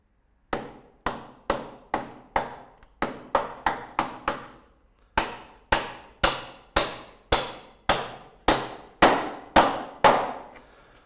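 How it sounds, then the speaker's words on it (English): Steady hammer blows drive nails through a dry verge unit into a timber batten end clip on a roof, about twenty sharp ringing strikes in even runs with one short pause, close and loud. "using the nails provided, we're going to fix the head of the unit firmly in place"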